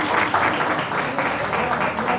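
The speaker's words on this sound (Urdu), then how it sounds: "اپنے لیے تالیاں بجائیں" Audience applause in a hall at an Urdu religious talk, steady dense clapping throughout with a voice faintly audible underneath.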